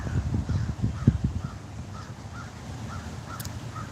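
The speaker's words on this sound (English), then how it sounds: "You hear the crow?" A crow caws repeatedly outdoors in a steady series of short, evenly spaced calls at moderate distance, with low rumbling background noise that is heavier at first.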